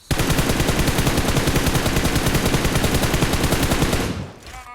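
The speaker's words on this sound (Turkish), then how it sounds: "Bazuka saldırısı." Sustained rapid-fire gunfire from a bazooka attack in a video game pounds along steadily at close range for about four seconds, then cuts off abruptly, leaving a brief quieter tail with a faint rising whine.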